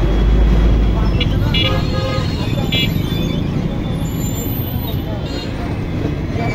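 Congested road traffic in Panchagarh with cars and buses idling and inching along, a steady loud roadway rumble broken by a few short horn toots early on, with voices in the background.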